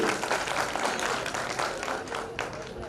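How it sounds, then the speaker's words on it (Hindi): Applause from the crowd at a Sant Ravidas Jayanti celebration honors the girls, dense and continuous clapping at close range across the whole stretch. "तो इसके लिए जोरदार तालियां बजनी चाहिए बच्चियों के लिए"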